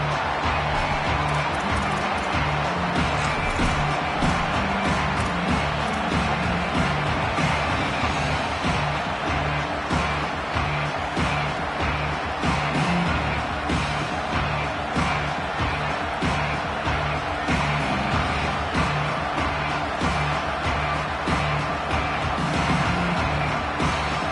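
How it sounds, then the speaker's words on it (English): Dense, steady roar of a large American football stadium crowd filling the air continuously, loud and unbroken throughout. "This crowd bringing the energy and noise early."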